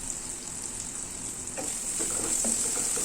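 Chopped tomatoes are stirred in a hot pan with fried prawns for a spicy prawn dish, producing a steady sizzle with a few soft scraping stirs toward the end.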